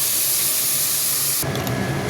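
Water poured into a pan of fried rice, a loud hissing spray of steam that cuts off abruptly partway through, leaving a quieter bubbling simmer.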